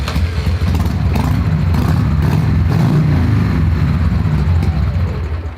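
A cheap Harley Davidson motorcycle runs loud and close, its rough, lumpy engine rumbling steadily with some mechanical clatter and small swells in throttle throughout, with no talking.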